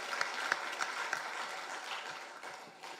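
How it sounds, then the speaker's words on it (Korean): Congregation applause rings out at a Korean church's Sunday worship service: a close, dense wash of clapping hands with a few sharper claps standing out early, holding steady for the full span before thinning slightly at the end. "다시 한번 우리 하나님 아버지께 영광의 박수 올려드리겠습니다."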